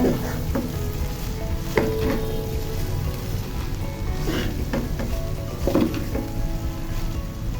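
Chinese fried rice with tomato sauce sizzling in a pan, stirred with repeated scraping and clinking strokes over a constant, close frying hiss, with no speech.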